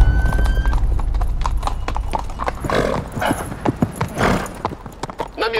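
Horse hooves clip-clop in a steady rhythm on a hard surface, close and loud, with a brief whinny and some voices mixed in around the steps.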